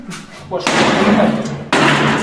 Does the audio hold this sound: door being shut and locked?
yes